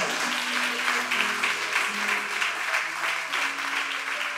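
A church congregation breaks into sustained applause, a dense wash of clapping from many hands in a reverberant hall, steady and loud for several seconds.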